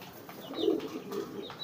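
A round-headed kolong racing pigeon coos softly close by in a brief, low, throaty murmur, with a faint rustle or two of wings around it.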